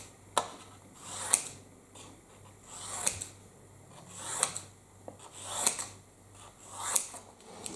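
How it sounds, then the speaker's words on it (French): Small scissors snip paper at a steady pace, about six crisp cuts a few seconds apart, with faint paper rustling between them in a quiet room, cutting out little printed words. "Je prends mon ciseau et je découpe chaque petit mot là."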